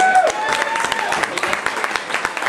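A crowd applauds with steady clapping throughout, moderately loud, with a voice briefly audible over it.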